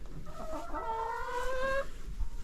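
Several chickens in a mobile chicken caravan on a free-range setup, a close, fairly loud run of clucks and drawn-out calls over low background rumble, with no talk.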